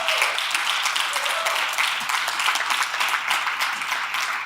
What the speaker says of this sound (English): Let's give a round of applause for that documentary.